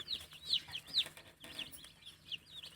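Day-old baby chicks cheeping from a hatchery delivery, rapid high-pitched peeps repeating close by and fairly soft, with no talk.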